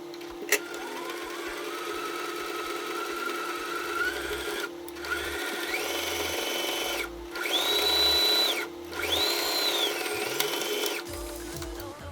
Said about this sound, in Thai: เราก็นำชิ้นงานไปเย็บได้เลยค่ะ